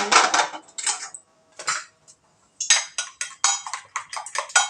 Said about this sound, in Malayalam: ആ മുട്ട പൊട്ടിക്കുന്നത്